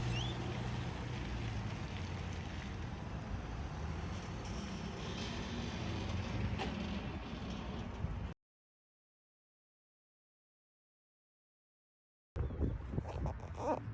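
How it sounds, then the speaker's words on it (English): A vehicle with a camper unit rolls into a campsite as a steady, broad rumble for about eight seconds, then drops out briefly before resuming at the end. "You hear somebody just now pulling in with their unit."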